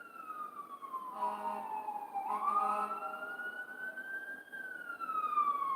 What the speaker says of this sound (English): You hear them sirens, right?